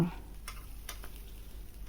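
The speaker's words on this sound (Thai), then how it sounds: "ขั่วพริก กระเทียมหอมแดง" Chilies, garlic and shallots sizzle softly as they are stir-fried in a pan, a low steady fry with a few light scraping stirs.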